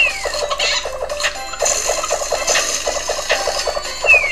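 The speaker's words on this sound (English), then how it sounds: "Wow, deflating chickens." Chickens squawk and deflate in the Chicken Invaders Christmas edition game, a steady patter of short clucking and squeaky sounds repeating over a faint background tone, with no talk.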